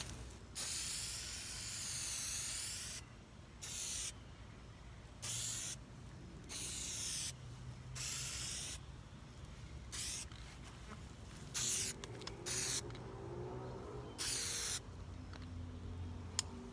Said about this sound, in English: break out the Plasti Dip, start spraying